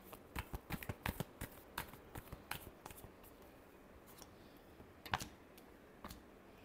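Tarot cards being shuffled, heard as quick bursts of riffling and flicking in clusters with pauses between, faint and close in a quiet room.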